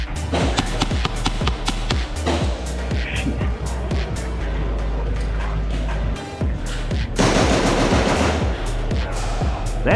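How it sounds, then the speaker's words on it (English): Airsoft guns fire in rapid bursts and single pops during a team deathmatch game, a loud, busy stretch of overlapping shots near and far, with occasional thuds. "That sounds like a lovely gun."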